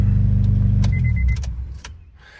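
Honda Integra DC5 engine idling, a loud steady low rumble that drops away partway through, with a few light clicks and a brief mechanical whine over it.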